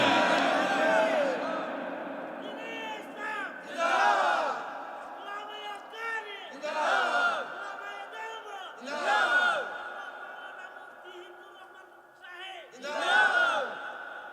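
Large crowd at a Bangladeshi religious gathering shouting the takbir slogan in unison, with several loud bursts of massed voices rising and falling in a repeated call-and-response rhythm.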